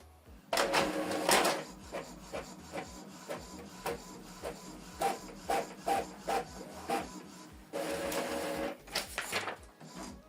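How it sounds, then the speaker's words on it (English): An Epson ET-2862 inkjet printer whirs and clicks as it feeds and prints a test page, with bursts of louder mechanical rasping at the start and end and rhythmic ticks between. "So it's now printing a test page."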